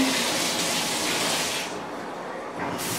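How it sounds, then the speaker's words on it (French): A shower runs in a rental apartment in Villeray, its water gushing and spraying loudly and steadily, with a brief dip in the spray partway through. Some faint speech sits under the water. "je vais essayer de voir si on est capable d'ouvrir la douche en haut"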